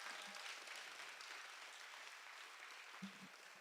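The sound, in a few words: audience applause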